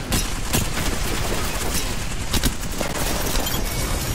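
L-STAR energy light machine gun firing steadily in Apex Legends, a continuous loud stream of rapid shots with a few sharper cracks over dense battle noise throughout.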